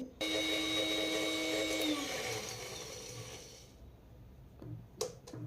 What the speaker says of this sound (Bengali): আর এখন জল না দিয়ে এটাকে গুঁড়ো করে নিতে হবে।